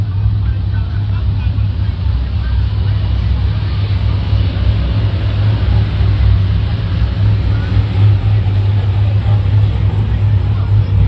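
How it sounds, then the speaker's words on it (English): Cars roll into an outdoor car show, a steady low engine drone and idling rumble filling the air continuously, fairly loud and close, with no clear individual pass-bys. "got some cool cars rolling in. They're still rolling in"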